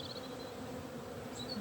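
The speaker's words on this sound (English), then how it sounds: "Just relax, let the bees settle." Honeybees hum steadily around an opened hive, a continuous low buzzing drone with occasional higher whines of individual bees passing close, faint and without speech.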